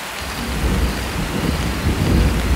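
Steady heavy rain pours with deep rolling thunder rumbling beneath it, continuous and fairly loud throughout, with no voices.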